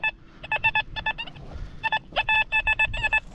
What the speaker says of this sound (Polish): Mamy właśnie pierwszy, wyższy, a co za tym idzie, bardzo ciekawy sygnał.